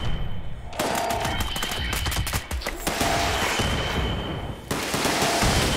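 Rapid bursts of gunfire from the video game Fallout 76 rattle loudly and continuously, dense shots packed together with only brief gaps between volleys.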